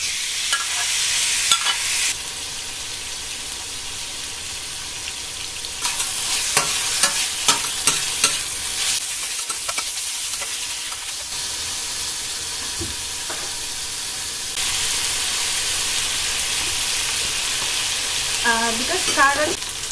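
Mushroom, cabbage, red bell pepper, carrot and zucchini stir-fry in a hot pan, with a steady loud sizzle and hiss and repeated scraping stirs, close and continuous with no talking.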